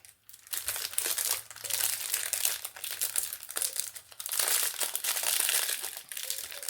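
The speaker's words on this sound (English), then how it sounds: "I'm very sorry about the crinkling, but, well, it just goes along with a Temu haul" Plastic packaging from a Temu haul of silicone molds crinkles and rustles continuously at close range. The crackling swells and fades in waves, and no voices are heard.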